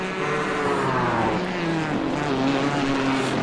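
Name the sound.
endurance race car engine at Twin Ring Motegi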